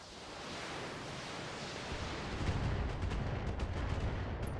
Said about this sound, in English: we're just going to fire at both of them